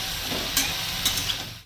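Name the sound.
chopped onions and panch phoron frying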